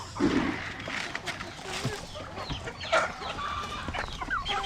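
Farm chickens kept outdoors cluck and call in scattered bursts at moderate distance, with a person talking over and between them.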